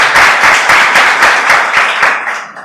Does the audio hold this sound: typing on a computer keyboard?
no